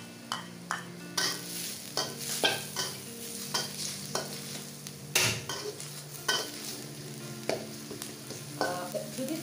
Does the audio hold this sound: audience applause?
no